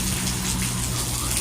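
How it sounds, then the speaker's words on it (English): Heavy rain pours down during a storm, a dense, close, steady hiss of falling rainwater with no break across the short stretch. "That's rain. That's rainwater."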